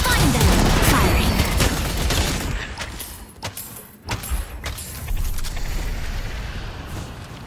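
Gunfire in the video game Deadlock, a high-level match played with the sniper Vindicta: loud, dense shooting fills the first seconds, then scattered sharp shots and clatter continue under a busy game mix.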